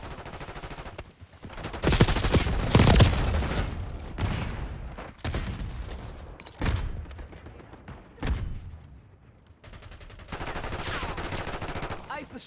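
Gunfire in Call of Duty Black Ops 6: repeated bursts and rattling volleys of automatic fire at moderate loudness, some heavier impacts mixed in, with game sounds continuing between them.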